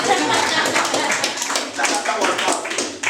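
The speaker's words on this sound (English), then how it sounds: "Clap, clap, clap." An audience at a keynote presentation on creativity claps together, a dense patter of hand claps with uneven swells, near and fairly loud, while a voice speaks underneath.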